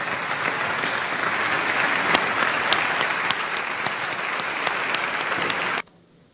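Sustained applause from a standing audience at the opening of ordinary sessions in the Argentine Congress, a dense, steady clapping roar with a few sharper claps that cuts off abruptly near the end.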